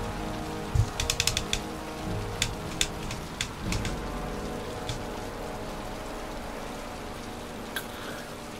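Rain falls steadily in the Heavy Rain video game, a continuous hiss with scattered sharp droplet taps and clicks clustered early, then settling into an even wash.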